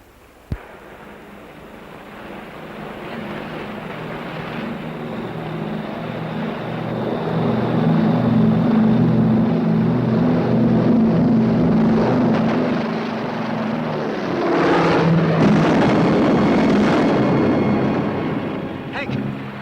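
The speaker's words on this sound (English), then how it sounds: "Come on, we'll miss the takeoff." An airplane taking off gives a steady engine drone that swells louder over several seconds, then eases slightly before surging again near the end.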